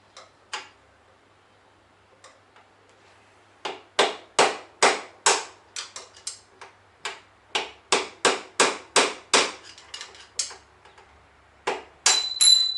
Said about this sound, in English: Probably going to need a big hammer. And my screwdriver again.